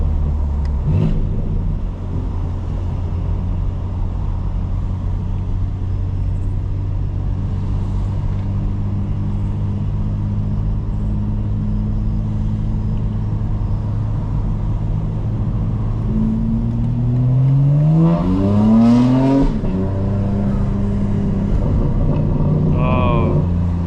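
A 2025 BMW M4 Competition xDrive accelerates hard on city streets at night, a steady engine drone rising into a sharp rev climb with gear-change sweeps near the end, heard from inside the cabin.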